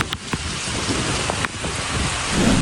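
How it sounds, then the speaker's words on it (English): Heavy tropical rain pours down in Phuket, a dense steady hiss of drops on surfaces that holds throughout and swells slightly toward the end, with no voices. "It's amazing how it rains."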